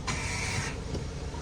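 A car pulls up for an offroad outing, its engine a steady low rumble with a brief higher whine near the start, close and fairly loud throughout.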